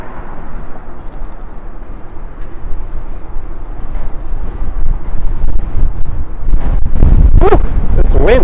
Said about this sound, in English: Whew, this wind.